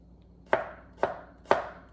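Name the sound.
chopping garlic cloves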